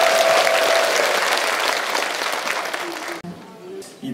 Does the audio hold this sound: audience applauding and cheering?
yes